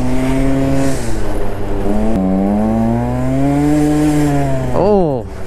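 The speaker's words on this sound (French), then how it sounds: "Oh, vieille Corolla" An old 1996-97 Toyota Corolla drives past, its steady engine drone climbing and falling in pitch before a quick downward sweep near the end as it goes by, loud and close over continuous motor noise.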